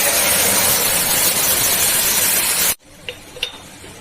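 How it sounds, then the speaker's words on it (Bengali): Mung dal fries in a hot pan with a loud, dense sizzle that cuts off abruptly, followed by a few faint clinks and scrapes in near quiet. "আর মুগ ডাল ভেজে দিচ্ছি"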